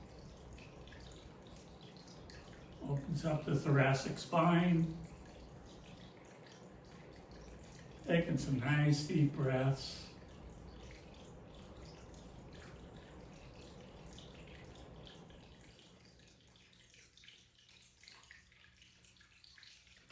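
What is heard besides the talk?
water fountain running outdoors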